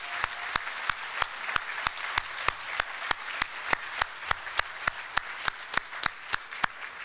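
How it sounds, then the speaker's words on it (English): Applause at a university commencement ceremony: a crowd clapping under a sharp, evenly spaced beat of single loud claps, roughly three per second, that runs steadily from start to finish. "Let's give them a round of applause."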